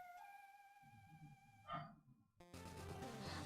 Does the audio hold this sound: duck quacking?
no